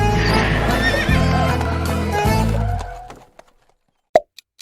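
A horse gives a loud, drawn-out neigh lasting about three seconds, followed by a few sharp clip-clop or plop sounds after a brief silence.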